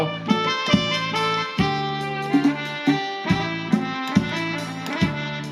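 A Yamaha PSR-450 keyboard's wind-instrument voice plays a rhythmic melody with sustained reedy tones and punctuated accompaniment chords, moderately loud, with no talking.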